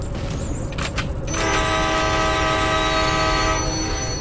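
A train in the Choo Choo Charles mobile video game rumbles steadily, then its horn blares as a loud sustained chord that keeps sounding over the continuous engine and track noise.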